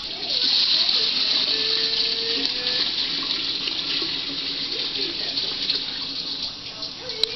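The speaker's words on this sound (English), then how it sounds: "I'm going to top it off a little bit with some more water right from the faucet." Water runs steadily from a faucet into a container to top up pineapple fruit wine before yeast is added. The rushing splash is close and continuous for several seconds.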